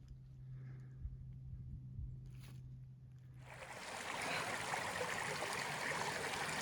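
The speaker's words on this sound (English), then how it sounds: "Justice Creek." Rushing water of Justice Creek on the Appalachian Trail, a steady broadband wash that swells louder in the second half as the stream nears, with a low hum and faint knocks early on.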